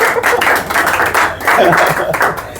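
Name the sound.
audience applause at Holi poetry gathering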